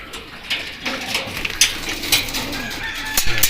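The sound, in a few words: pigeon cooing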